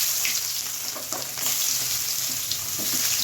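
Chopped onions hit hot oil already seasoned with mustard seeds and asafoetida, giving a loud, steady, crackling sizzle with a few stirring scrapes throughout.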